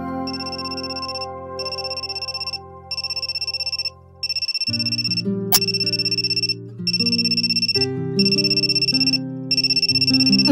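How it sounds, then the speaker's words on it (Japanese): Phone ringing in the Amnesia: Memories game, a loud electronic ringtone in steady repeated pulses with brief gaps, sounding over background music with no talking. "電話鳴ってたんだっけ？ まだ鳴ってる？"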